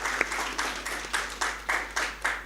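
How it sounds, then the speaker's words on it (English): Audience at an ecology conference on peace claps in a sparse, rhythmic way, a handful of distinct bursts roughly every quarter second, fairly close and moderately loud with no talking. "give a big round of applause to keeping that hope alive"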